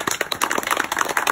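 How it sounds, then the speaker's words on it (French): An audience claps for a young boy at a cello performance, giving brisk, steady applause for just over a second with no voices. "On va applaudir notre jeune garçon"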